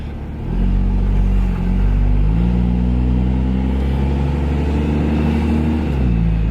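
Cummins diesel truck engine fitted with a resonator for a quieter exhaust, idling and revving gently in a close, steady low rumble with a few shifts in pitch.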